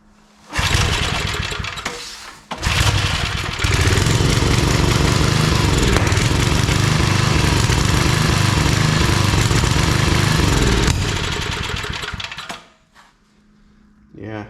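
A small engine on a homemade wood splitter, with an oversensitive governor, runs roughly and loudly. It catches, drops out briefly, then roars steadily for about ten seconds before cutting off.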